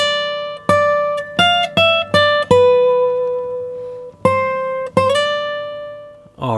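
Solo guitar playing a high lead phrase from a song, bright single plucked notes in quick runs then sustained ringing tones and a slide, close-miked with nothing else audible.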